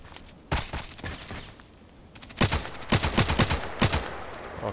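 Gunfire in the video game Contract Wars, a single shot followed by rapid bursts of sharp reports, fairly faint and alone.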